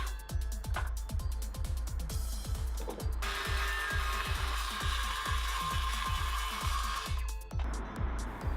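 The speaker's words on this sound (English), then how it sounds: "I decided to just use my little handsaw to cut these corners out of the plywood bottoms" Small handsaw cutting corners out of plywood, close rhythmic back-and-forth rasping strokes roughly two per second, with a brighter higher whine from about three to seven seconds.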